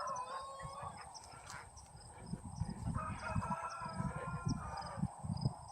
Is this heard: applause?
no